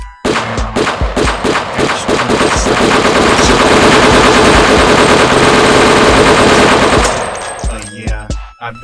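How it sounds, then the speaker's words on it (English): AK-47 rifles fire in a long, loud, continuous automatic burst lasting several seconds, preceded by a few separate shots and trailing off into scattered echoing impacts. "Each has an AK-47. They point and shoot Ann point blank."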